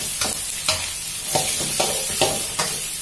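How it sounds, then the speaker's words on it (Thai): Squid with salted egg stir-fried in a hot pan: loud close sizzling with rhythmic scraping strokes of a spatula roughly every half second, no talk. "เมื่อเราผัดสักพักแล้วนะคะก่อนนำขึ้นให้ใส่ต้นหอมค่ะ"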